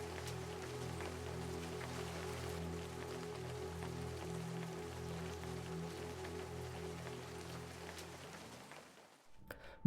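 Heavy rain falling at Hampi outside the Vitthala Temple: a steady, dense hiss of downpour with a low continuous hum beneath, holding even throughout before fading at the very end, no voices.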